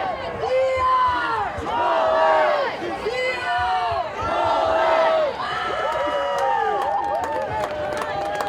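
Spectators in the stands at a high school Class 5A playoff lacrosse game, Mullen against Wheat Ridge, yelling and cheering in loud, surging waves of many voices, with shouts rising and falling throughout.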